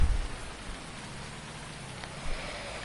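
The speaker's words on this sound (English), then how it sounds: "So hopefully the rain will like calm down by the time we get there." Steady rain falls on a surface, a soft continuous patter of drops with a faint low rumble underneath.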